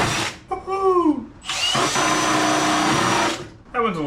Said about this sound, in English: I almost need a little longer drill bit. Let's see if I can do this without breaking this bit.